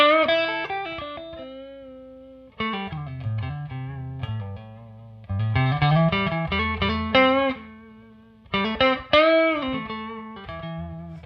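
An amplified electric guitar plays three bursts of chords and notes, each attacked hard and ringing out, separated by short gaps.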